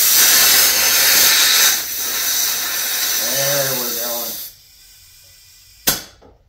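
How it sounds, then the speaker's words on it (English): Air hissing from a compressor line into an aircraft landing gear tire, a loud steady rush that fades, with a brief voice partway through, then a short sharp burst as the chuck comes off. "Snugged up, no tube pinched, stem looks straight, so we'll put some air in it."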